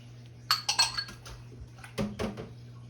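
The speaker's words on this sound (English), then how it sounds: "Now all you do is dump the herbs in here" Herbs dumped into a bowl and stirred while making old-school herb butter, giving a few close clinks and scrapes of utensil against dish in two short bursts, with no talking.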